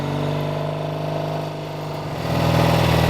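A 1968 Triumph Bonneville 650 motorcycle engine runs with a steady, close throbbing note that dips briefly and then climbs louder as it goes into the next gear while riding.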